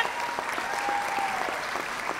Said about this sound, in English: Let's give her a round of applause to Maria Jose Musquiz.